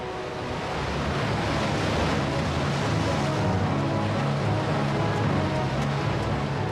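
A sound effect of roaring walls of water: a dense, loud, continuous wash of surging water and rushing wind that swells in at the start and holds steady throughout, with no voices.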